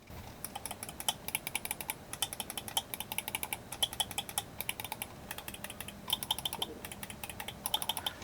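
Quick clicking from Aula X9 style gaming mouse switches, sharp light taps in uneven bursts, close and fairly quiet over a faint background hiss.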